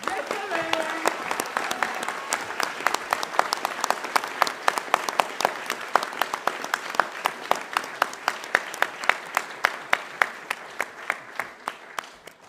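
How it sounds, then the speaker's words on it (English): A crowd claps in sustained applause at a high school prize giving, gradually thinning to a few scattered, rhythmic claps near the end. "Please give a big round of applause to Elise Conlon."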